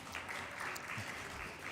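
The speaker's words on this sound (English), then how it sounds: "I think she deserves a round of applause." Sustained applause from a conference audience for a panel moderator, steady dense clapping throughout with no speech over it.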